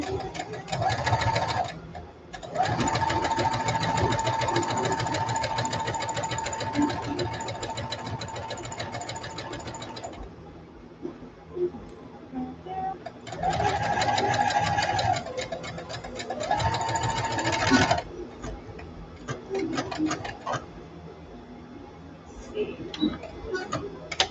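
Sewing machine hemming a T-shirt or jeans in a makerspace: steady rapid stitching runs of several seconds each, pausing and restarting twice, with quiet talk in the gaps.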